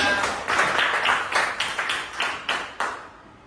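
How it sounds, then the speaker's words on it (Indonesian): Audience clapping at a gathering when one person stands, heard as a short burst of claps that rises, then trails off into scattered, separate claps over a few seconds. "Kasih tepuk tangan untuk Raya."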